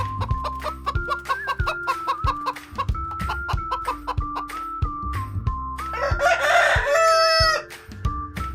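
A hen clucks in short repeated bursts over a steady musical backing, rising to a louder squawking flurry near the end.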